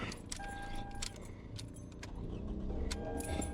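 A 2007 Toyota Camry engine running just after starting, following a no-crank fault, its steady low rumble overlaid by loud, close jangling of keys.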